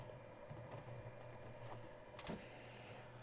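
Quiet keyboard typing while logging in to an Arduino Uno Q setup, a few soft scattered keystrokes over a steady low hum, with one slightly louder clatter of keys near the end.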